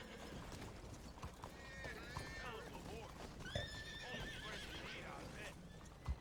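A horse whinnies several times amid busy background noise and voices, with scattered hoof clatter, during a hurricane in the Bahamas; the neighs rise and fall at moderate distance under people talking.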